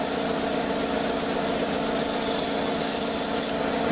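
Sandpaper rubbing against a wooden spinning top as it turns on a lathe, a continuous, close, dry rasping hiss that holds steady throughout with no talking.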